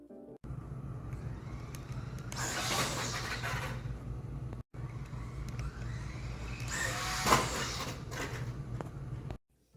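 Losi Mini-T 2.0 RC car driven at full throttle: two separate bursts of high motor whine and tire noise, each a couple of seconds long, over a steady low hum, with no talk.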